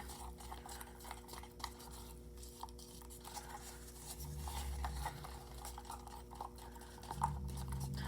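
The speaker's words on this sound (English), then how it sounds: "I'm going all the way down to the bottom corners of that cup and mixing that dry powder up." Dry mosaic grout powder stirred with water in a cup, a quiet gritty scraping and rubbing that runs steadily at low volume over a faint background hum, with no speech.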